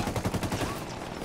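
Rapid automatic gunfire crackles in Tom Clancy's Ghost Recon Wildlands, loud overlapping bursts from several weapons firing at once for a brief moment.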